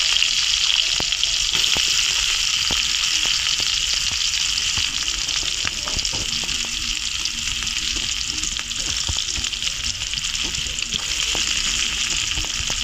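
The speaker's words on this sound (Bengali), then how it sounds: "এখন একটা কড়াইতে তেল দিয়ে দিয়েছি, তেলের মধ্যে আমি পেঁয়াজ করে দেবো, পেঁয়াজ কুচি।" Chopped onions fry in oil in a kadai for a bitter gourd and jackfruit seed dish, giving a loud, steady, dense sizzle with occasional light clicks and crackles throughout.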